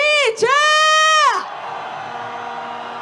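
Protesters at a Korean candlelight march cheer and shout together in a loud, sustained roar of many voices that rises, holds, then drops into a low murmuring crowd.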